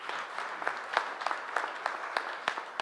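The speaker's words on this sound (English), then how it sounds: "So please, a round of applause to each one of you." Steady applause from an audience at a Mercedes-Benz Actros launch, many hands clapping together in a dense, crackling wash with a few sharper claps standing out.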